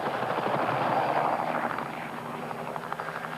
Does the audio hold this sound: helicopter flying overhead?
yes